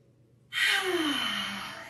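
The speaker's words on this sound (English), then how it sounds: "Let's take a big breath in through our nose, exhale through our mouth" One deep breath sounds close and clear after a brief quiet, a sharp intake through the nose flowing into a long, gradually fading exhale through the mouth during a stretching and strength exercise session.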